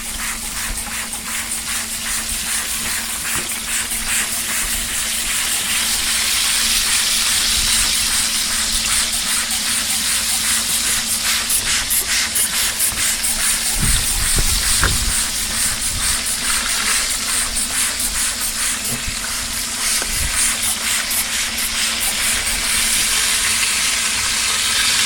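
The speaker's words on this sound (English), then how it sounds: "Gonna give the first spritz." Brisket on a pellet grill is spritzed, giving a steady loud sizzle and hiss with a constant fan hum, close and continuous throughout.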